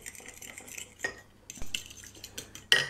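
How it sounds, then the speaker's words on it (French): A spoon scrapes and clinks against a dish while stirring a mustard chermoula marinade, giving sparse light metallic taps and one sharper clink at the end, with no voices. "et je viens ici mélanger"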